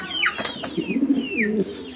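Roman Gar pigeons coo in a breeding loft at a pigeon sale, soft throaty warbling calls close by with a few higher chirps overlapping.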